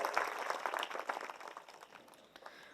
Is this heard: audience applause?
yes